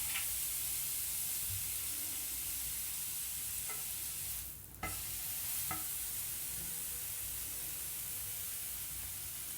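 Bread pieces roasting in a heated pan, a steady loud sizzle with a few light scrapes and taps as the pieces are turned.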